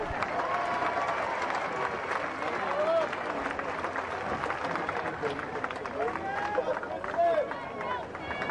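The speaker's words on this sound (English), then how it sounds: "Give those ladies a round of applause." A crowd at a national swimming championship applauds the women's 50 m freestyle finalists, steady clapping and cheering filling an echoing indoor pool hall with a loud, sustained wash of sound.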